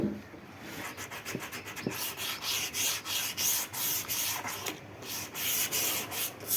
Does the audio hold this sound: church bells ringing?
no